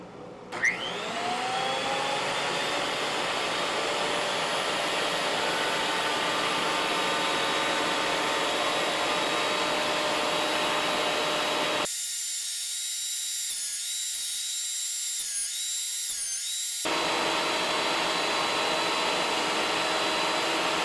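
Ryobi power tool on a workbench running up to speed with a loud, steady whine as a board is fed through, the pitch shifting briefly partway before it runs on evenly.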